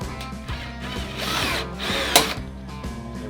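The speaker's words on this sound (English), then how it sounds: "take our drill, take our 1/8 inch drill bit, drill a hole" A power drill fitted with a 1/8 inch bit bores a hole, giving a steady, close motor whine for a few seconds with one sharp bite partway through.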